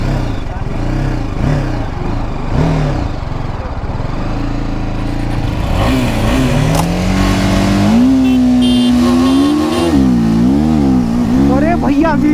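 A 2024 TVS Apache RTR 310 motorcycle with quickshifter accelerates hard in a drag race, engine loud and close with pitch rising and falling through gear changes, ending in a steep climb.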